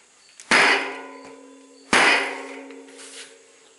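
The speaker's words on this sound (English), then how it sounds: "take the wheel like this and just whack it against the ground a couple" A mountain bike wheel is whacked against the ground twice, each strike a loud, ringing metallic clang that decays slowly, spaced about a second and a half apart.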